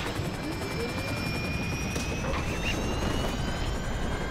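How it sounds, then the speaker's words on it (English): A helicopter in the video game GTA Online drones steadily with a constant rotor and engine whine, loud and continuous with no talk over it. "I'm always scared my helicopter's gonna hit me"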